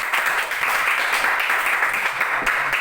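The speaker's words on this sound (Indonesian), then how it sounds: "Berikan tepuk tangan untuk Anam." Steady applause from a classroom of students, a dense wash of clapping hands that holds evenly for a few seconds without any voices.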